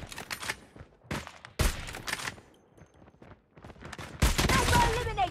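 Bursts of gunfire in a Call of Duty Mobile multiplayer match, loud sharp volleys broken by quieter gaps, with game voice callouts mixed in.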